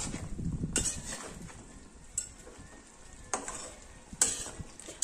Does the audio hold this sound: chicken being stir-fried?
yes